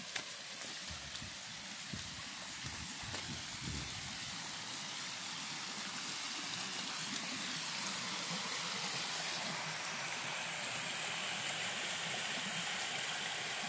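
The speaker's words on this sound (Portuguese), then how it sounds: "Um ribeirãozinho." A small stream swollen by heavy rain rushes steadily beside a trail ridden on a Dafra Kansas 150 motocross bike, a continuous broadband wash with a faint low rumble beneath it.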